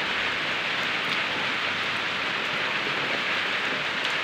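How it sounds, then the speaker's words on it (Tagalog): Heavy rain pours down steadily, a dense, even roar of drops hitting surfaces close by, unbroken for the whole stretch with no voices. "ang lakas ng ulan"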